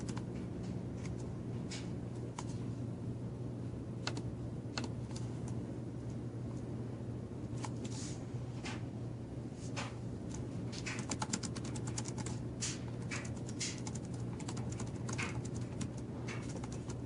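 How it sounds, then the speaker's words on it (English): Someone types on a Dell Latitude 3540 laptop keyboard: scattered, irregular key clicks, some in quick clusters, fairly faint over a constant low hum, with no voices. "I'm going to test the keyboard out for you guys right now."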